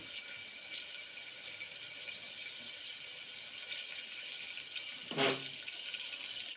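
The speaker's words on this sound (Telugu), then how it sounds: "నీళ్ళు పోయాలి" Water pours steadily into a pressure cooker with a soft, continuous rushing stream, faint and close, with one brief louder splash near the end.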